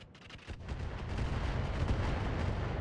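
Artillery fire aimed at a Nidhogg in a video game: a sharp blast is followed by a sustained, heavy rumbling roar that stays loud and steady throughout.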